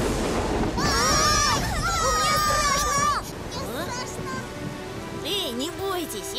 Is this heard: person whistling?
no